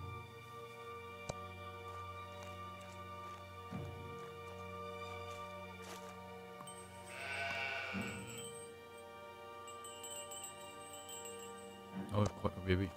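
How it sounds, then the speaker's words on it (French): Sheep bleat in the video game Old Man's Journey, a few short calls rising over steady game music, with a voice talking at moments. "les moutons m'embêtent"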